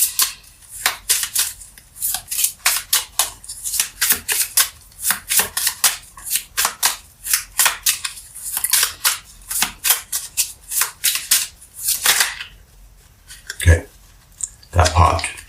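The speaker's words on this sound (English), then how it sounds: "Let's pull another card, something more definitive." Tarot cards being shuffled and drawn, a long run of rapid, crisp riffling snaps and slaps close up, loud and steady, then a few slower single flicks and taps near the end.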